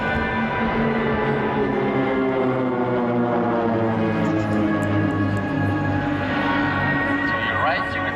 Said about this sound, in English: To your right, you will now observe the solo aircraft rejoining the team.